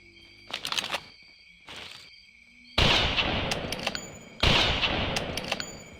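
Two loud shotgun blasts ring out in a dinosaur-hunting game, each with a sharp crack and a long decaying tail, after quieter rustling sounds.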